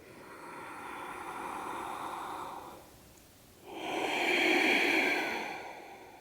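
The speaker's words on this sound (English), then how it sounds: "Deep breathing." Deep breathing during a yoga practice in a wide-legged forward fold, a long audible inhale followed by a short pause, then a fuller, louder exhale, close and alone.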